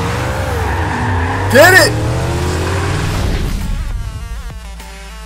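A supercharged car engine in the Forza Horizon 2 racing game revs and roars up close with a sharp rising whine, while an excited voice shouts over it and game music plays underneath.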